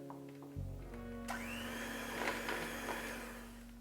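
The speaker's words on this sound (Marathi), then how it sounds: "त्यानंतर आपण बीटर चालू करायचं आहे" An electric beater switches on after a short pause and whirs steadily through an eggless plum cake batter rich with ghee and curd, its motor whine climbing louder a moment later and holding a continuous buzzing drone.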